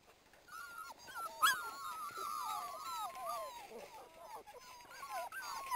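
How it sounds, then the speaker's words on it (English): Brittany puppies whimper and yip in high, wavering cries that come in quick overlapping bursts, fairly close and soft, with one sharper yelp early on. "Hello, puppies."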